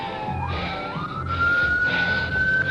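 A police car siren wailing close and loud, its pitch sweeping upward and then holding a high steady tone over road and engine rumble.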